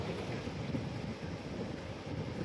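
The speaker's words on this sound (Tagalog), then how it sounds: "Grabe ang alon." Rough sea waves, a constant roaring wash of surf mixed with heavy wind buffeting the microphone, loud and steady throughout with no talking.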